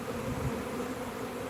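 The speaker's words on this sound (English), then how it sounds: "Frames of some bees here going nuts." Honeybees swarming over hive frames, with drones among them, make a dense, steady buzz heard up close, without a break and with no speech over it.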